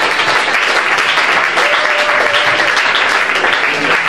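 A church congregation applauds steadily during a French-language sermon, dense continuous clapping filling the room at close range with a few faint voices mixed in.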